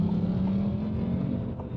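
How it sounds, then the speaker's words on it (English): A Ford Mustang passes by in traffic, heard from inside another car as a steady, moderately loud engine drone with a low hum, no talking over it. "Oh shoot, that was a bad boy Mustang"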